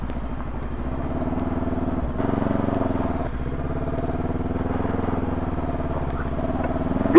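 A Bristol Venturi scooter rides through a shallow river crossing, its small engine droning steadily and close up with a rough, even rhythm throughout, a brief dip in the middle before the engine picks up again.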